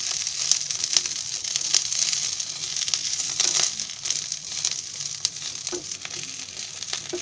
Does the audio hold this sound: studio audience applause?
no